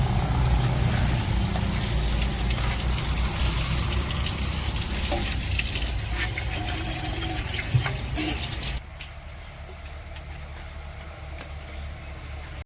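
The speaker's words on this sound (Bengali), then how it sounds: "আবার ওই যে নামতেছে বৃষ্টি" Rain pours down steadily in a village under a darkening sky, a dense, loud wash of falling water that drops to a softer patter near the end.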